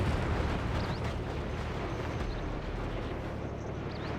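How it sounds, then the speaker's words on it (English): Artillery shells exploding in a tank video game: a loud, sustained roar of blasts and deep rumble that fills the whole stretch without letting up, with no talking. "Heads up. Artillery."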